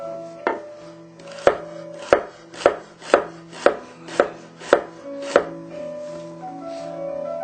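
A knife chopping celery at an angle on a cutting board, about nine crisp evenly spaced thunks close by, with no talking.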